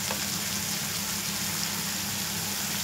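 Grated onion and garlic fry in a pan with ground turmeric and cumin, giving a steady, even sizzle that runs unbroken throughout at moderate volume.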